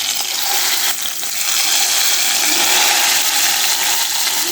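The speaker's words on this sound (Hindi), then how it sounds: "तो दाल को लगा देते हैं तड़का।" Loud, hissing sizzle of hot tadka tempering poured onto Punjabi-style daal in a home kitchen, a dense crackling spatter that stays strong and steady throughout.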